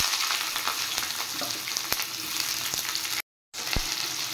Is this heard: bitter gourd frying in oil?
yes